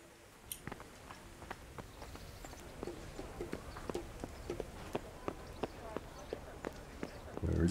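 Horse hooves clip-clop at a steady walking rhythm in the video game Kingdom Come Deliverance, distinct sharp knocks over a quiet background.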